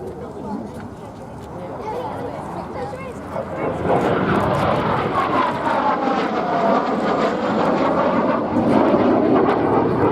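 A Hawker Hunter T7 jet performs an airshow display at Duxford, its engine rising from a distant rumble to a loud, sustained roar as it passes, with voices faintly underneath.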